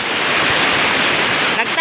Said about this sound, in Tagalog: Gamay ra pag-uwan lang dire,